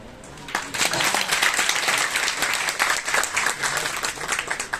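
Sustained audience applause fills a college auditorium during a poet's speech, dense overlapping claps from a large crowd rolling on steadily for about five seconds with no talking.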